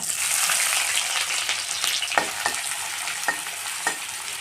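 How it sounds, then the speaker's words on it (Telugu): Onion, mustard seeds, cumin, chana dal and curry leaves fry in hot oil in a kadai over a medium flame, giving a steady close sizzle broken by a few sharp stirring scrapes, with no talking. "మీడియం ఫ్లేమ్లో పెట్టి ఇలా కాల్చుకోవాలండి"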